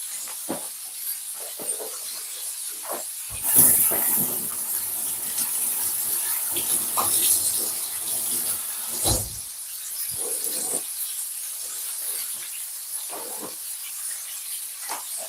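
Tap water runs steadily while hands are washed in a home kitchen during cooking, a continuous hissing stream with brief louder splashes and clatter, no talking.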